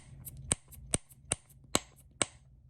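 Five sharp, crisp snaps from a small plastic boba tea fidget snapper toy, evenly spaced about half a second apart, close and clear.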